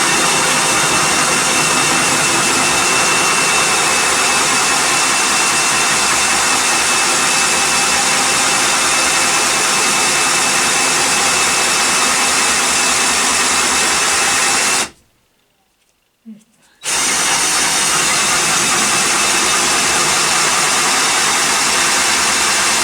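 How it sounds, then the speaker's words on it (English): A Lidl Parkside adjustable hole saw (PLS145 A1) on a cordless drill bores into wood with a loud, steady whirring drone that cuts out briefly near the end, then resumes. "it's meant for drilling holes in chipboard, plasterboard, chipboard and softwood"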